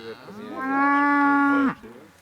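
A single Aubrac heifer gives one loud, close moo lasting about a second, rising then holding a steady tone before cutting off, with quiet farm background around it.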